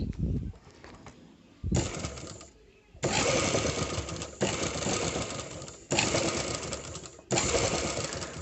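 A sewing machine stitches thread piping onto a blouse in repeated loud bursts of fast, even needle chatter. The bursts are separated by short pauses with quieter handling sounds in between.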